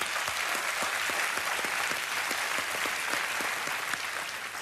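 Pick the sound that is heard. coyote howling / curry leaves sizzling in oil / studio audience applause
studio audience applause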